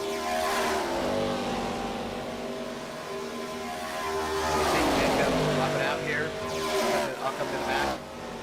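A pack of stock cars racing around Talladega in iRacing, several engines droning together with a pitch that sweeps down as cars pass, steady and loud, with a commentator talking over it.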